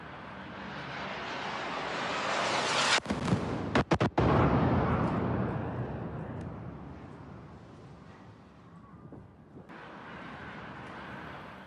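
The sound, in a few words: huge explosion in Dubai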